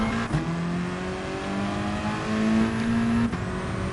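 A VW Cup race car engine in GT Sport drones steadily while the car heads out to the track, its revs rising and settling with a brief shift blip. No one speaks.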